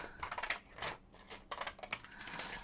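Scissors snip a white strip off cardboard packaging in a few quick, crisp, close cuts with short pauses between, faint and with no talking.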